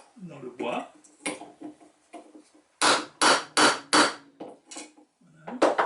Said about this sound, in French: Et la partie du clou rentre dans le bois.